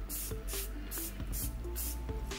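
Spray paint hissing onto a strip of sanded metal on a box van, a steady close spray with short breaks and faint clicks, no voices.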